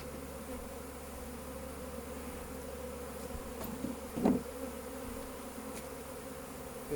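Honey bees buzz steadily at a hive as they feed, a dense low drone near and constant, with a brief louder surge as one passes close to the microphone.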